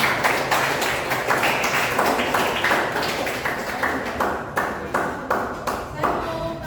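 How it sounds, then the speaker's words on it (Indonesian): Classroom audience clapping together, a steady patter of many hands at close range that holds for several seconds and then thins out toward the end. "Tepuk tangan dulu."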